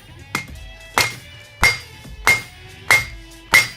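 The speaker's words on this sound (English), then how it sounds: "Notice when I'm forging in the same spot. The material's moving underneath it." A hammer strikes a steel bar being forged into a pineapple twist, six sharp ringing metallic blows at a steady rhythm about every 0.6 seconds, each with a short bright ring, close and loud with no talk.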